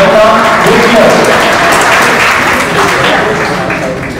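An audience bursts into loud, sustained applause at a medical quiz final round, dense clapping holding steady before easing off slightly toward the end.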